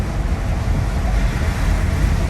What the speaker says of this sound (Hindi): बारिश कंटिन्यूसली हो रही है, नॉन स्टॉप